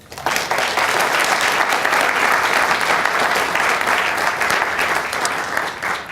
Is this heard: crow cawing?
no